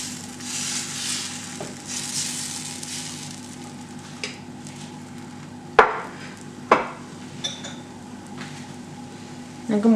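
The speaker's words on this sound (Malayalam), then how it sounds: "നമുക്കിതിൽ ബാറ്റർ ഒഴിച്ചെടുക്കാം" Carrot dosa batter sizzles steadily on a hot pan, a continuous frying hiss with a few soft clinks and scrapes of utensils, close and moderately loud.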